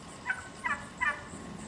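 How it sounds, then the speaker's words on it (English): Wild turkeys gobble in a suburban neighborhood, three short rattling calls at a distance, faint against quiet outdoor background with no talk. "Turkeys in the neighborhood."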